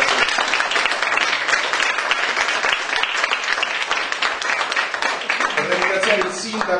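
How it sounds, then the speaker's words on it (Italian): An audience at an evening conference in a rented venue claps loudly and continuously, a thick wash of many hands, with a voice starting to come through near the end as the clapping carries on. "un applauso a..."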